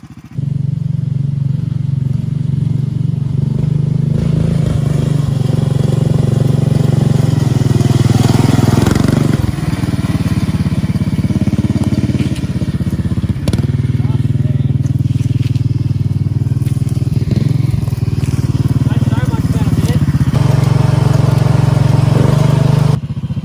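A 440cc golf cart engine with a newly fitted torque converter runs loud and close, a steady throaty drone that rises and bogs slightly under load, with a voice speaking over it at times.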